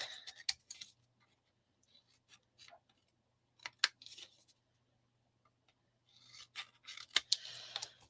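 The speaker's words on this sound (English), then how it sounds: "I'm just going to snip up to where that score line is" Scissors snip paper up to a score line in quick, crisp cuts, grouped in short clusters with quiet gaps between them, close and alone with no talk.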